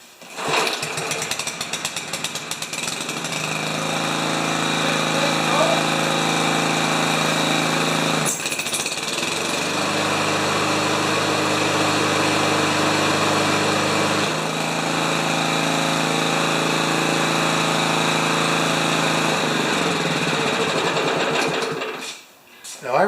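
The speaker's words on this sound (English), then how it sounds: "let's just give her a crank." A Honda HRB 215 lawn mower's small engine, run on choke after a tune-up, runs loud and steady for about twenty seconds, with a brief dip in pitch partway through before it cuts out near the end.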